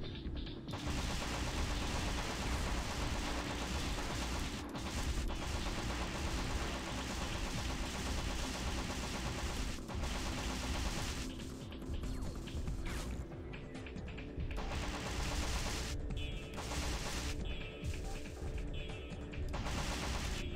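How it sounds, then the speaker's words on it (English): An ion beam weapon fires continuously in the Gun Metal video game, a dense, sustained rattling barrage with explosive crashes and brief gaps, loud and unbroken by voices. "Let's put this ion beam to good use."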